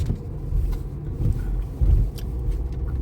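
A car's suspension jolts and clunks over a bumpy, potholed road, with repeated dull thuds over a steady engine and road rumble.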